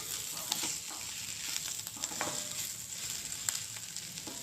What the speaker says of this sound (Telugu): ఫ్రై అయిపోయింది, స్టవ్ బంద్ చేసేస్తాను.